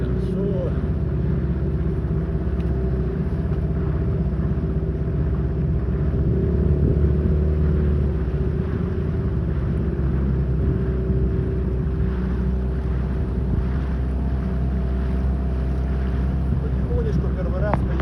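A Sea Pro outboard motor drives a Skat boat slowly across a river, giving a steady, loud, close engine drone with rushing wind and water noise throughout.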